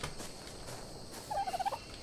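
Dodo birds calling in ARK Survival Evolved, a brief gobbling, warbling call near the end over a faint background, with no speech.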